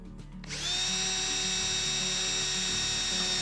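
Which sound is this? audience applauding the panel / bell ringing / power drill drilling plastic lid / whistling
power drill drilling plastic lid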